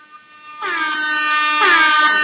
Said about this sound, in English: That's my air horn.